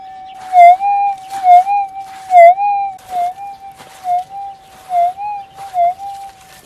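A metal detector giving a target response, a steady hum that breaks into repeated warbling tone bursts in a rough rhythm, loud and close, with no speech.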